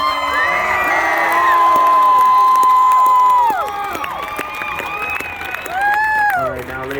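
A large crowd at a military platoon homecoming screams, whoops and cheers loudly and continuously, many overlapping voices rising and falling in a dense, near roar.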